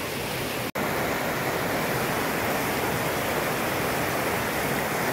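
Rain-swollen river and stream water in Daund taluka, Maharashtra, gushes in a loud, dense, steady roar close by, broken only by a brief cut near the start.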